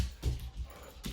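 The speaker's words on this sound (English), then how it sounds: "That's my dog, if you hear that." A dog whimpers softly in a few short, breathy bursts, close by and fairly quiet.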